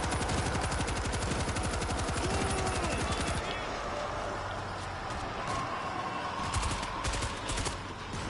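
A mounted stationary gun fires in World War Z on a Moscow bridge, a dense, loud rapid burst for the first few seconds before thinning into scattered shots and game noise.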